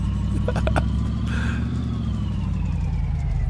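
Ford B200 junkyard pickup truck driving in the video game My Garage, a continuous engine drone with a low rumble, a few short clicks early on and a brief higher whine in the middle.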